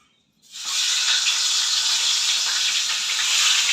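Katla (rohu-type) fish heads rubbed with salt and turmeric drop into hot oil, bursting into a loud, steady broadband sizzle after a brief silent start that holds strong throughout.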